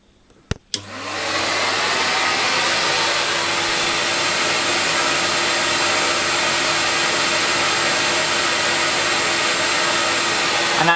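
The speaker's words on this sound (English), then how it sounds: "So I'm just going to start one motor." A CamVac dust extraction system in a workshop starts up on one motor after a couple of sharp clicks, then settles into a steady, smooth whooshing drone that stays even and fairly loud.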